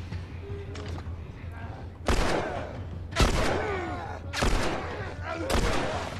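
Gunfire in The Last of Us video game: several sharp, loud shots spaced a second or so apart, each with a booming tail, over a low steady hum.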